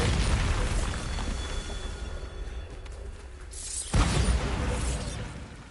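Loud booming blast from the Bombarda spell in a Harry Potter video game, a broadband burst near the four-second mark over a dense, continuous rumble of game sound.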